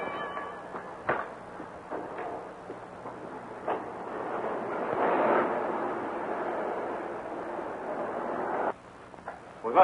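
An explosion in a film serial, heard as a muffled, rolling rumble that swells in the middle and cuts off sharply near the end, with scattered thuds beforehand.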